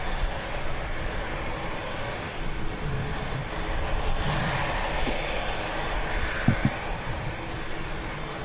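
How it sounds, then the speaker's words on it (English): A Boeing 787 Dreamliner departs from the south side of an airport, its engines a steady distant roar with broadband rumble that stays fairly even throughout, with no talking and a few faint brief knocks nearby. "Another Dreamliner lining up to depart on the south side"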